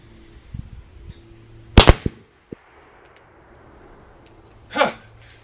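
A muzzleloader rifle loaded with 50 grains of powder and a 245 grain bullet fires once outdoors, a sharp doubled report followed by a brief echo, with a voice speaking afterward.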